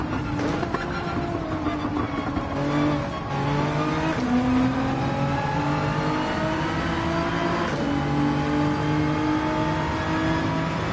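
A Nissan GT-R in Gran Turismo 7 runs at full throttle, its engine note climbing through rising gear pulls with short dips at shifts, a steady loud game-engine drone with no talk.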